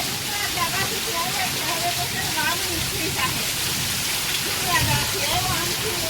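Heavy rain pours down in the fields during a dark thunderstorm in a steady, dense roar, with faint muffled voices now and then beneath it.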